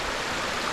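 Steady broadband rush of river water spilling over a beaver dam on the Winnipeg River in the Atikaki wilderness, a dense continuous roar filling the moment with no voices.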